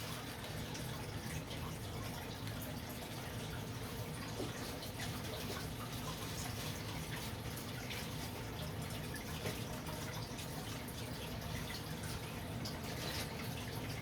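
Water splashes and trickles steadily into a 75-gallon aquarium tank as a bichir fish is released from its bag, a continuous close wash of bubbling and dripping with no talking.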